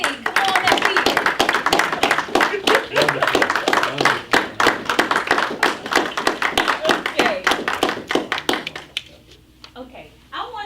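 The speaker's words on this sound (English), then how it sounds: "give a big, warm round of applause for the witch doctor, Akhenaten Salam Bey." An audience claps in a steady, close burst of applause welcoming a speaker on stage, individual hand claps distinct and sustained for several seconds before tapering off into a quieter room.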